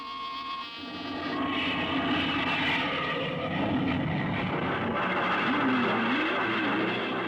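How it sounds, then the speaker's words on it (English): Aircraft taking off as a radio drama sound effect, a loud continuous engine roar that swells after the first second and holds steady, with a rising whine, no voices. "Clear for takeoff, Charlie?"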